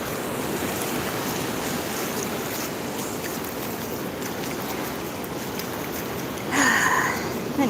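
Ocean surf washing up on a beach, a steady broad rush of waves with wind noise on the microphone, swelling louder near the end.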